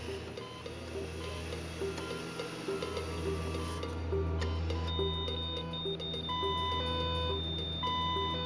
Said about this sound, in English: But when the boy stopped breathing, his medical alarm spoke for him.